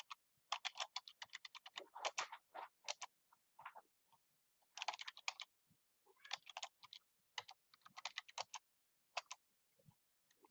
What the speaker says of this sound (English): you'll see that if I can type in the correct password